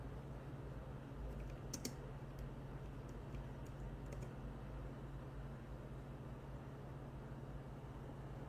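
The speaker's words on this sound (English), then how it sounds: "Let me type it again, maybe I can find it." Typing on a computer keyboard, heard as a few quiet scattered key clicks over a steady low background hum, with a short cluster of taps standing out early on.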